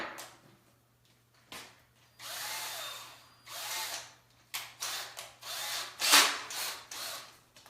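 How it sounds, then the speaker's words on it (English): Power drill with a 1/16 inch bit pre-drilling wood, several short whirring bursts separated by pauses, close and moderately loud. "I'm just pre-drilling this so that I don't crack the wood"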